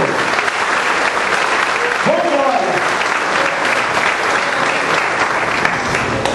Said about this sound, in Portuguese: Vamos aplaudir o Senhor transfigurado, vitorioso, ressurrecto.